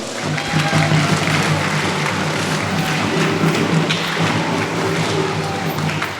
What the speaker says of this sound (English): Please give everyone another round of applause.